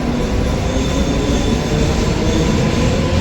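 A loud, steady rumble and rattle of a Mumbai suburban local train moving close by at a station, continuous throughout with no pauses.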